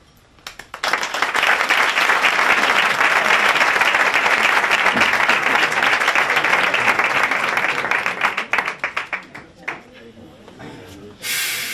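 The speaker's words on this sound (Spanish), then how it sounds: "Vecinos, despidámoslo con un fuerte aplauso." Strong farewell applause from local residents for a municipal band about to play a pasodoble in the street: dense, loud, sustained clapping that swells in after a second, holds steady, then thins and fades near the end.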